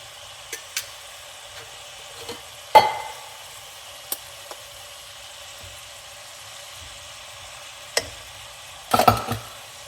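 Garam masala and chilli powder are stirred into a plantain fry cooking on a low flame, a quiet steady sizzle broken by sparse spoon ticks and a short clattering scrape near the end.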